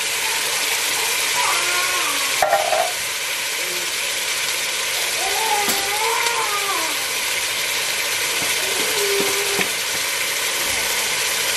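Tomato frying in a pan for Congolese batch cooking, heard as a steady broadband sizzle with occasional stirring scrapes, running continuously beneath a person talking nearby.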